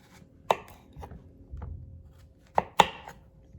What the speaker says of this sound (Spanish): Voy a iniciar quitándole lo más delgado de nuestras calabazas para que podamos usar la parte más gruesa de acá.